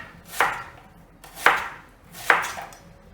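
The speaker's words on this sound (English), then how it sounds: "And now you have chopped onion." Three sharp knife chops slice through an onion on a cutting board, each a crisp thunk spaced about a second apart with brief rustling between, close and clear with no voices.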